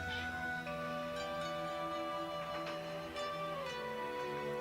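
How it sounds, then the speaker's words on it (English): A cat meows softly a few times indoors, faint and fairly close, with no one talking over it. "Is that why you're meowing at me?"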